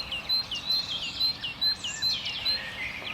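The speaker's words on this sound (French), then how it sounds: "Et les oiseaux sont là." Birds sing at sunrise outside a geriatric care home in Saint-Brieuc: a series of short, high, whistled chirps repeating about every half second, moderately close, over a soft background hush.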